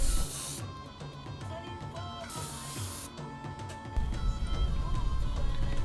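Aerosol spray paint hissing onto a game controller in purple layers, several close, steady bursts separated by brief pauses, followed by a louder stretch of rustling handling.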